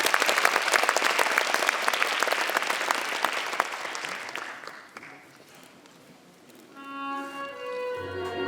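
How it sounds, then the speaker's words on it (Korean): Loud, sustained audience clapping at a university graduation ceremony gradually thins and fades, then gives way to a tonal musical passage at the end. "큰 박수로 환영해 주시기 바랍니다."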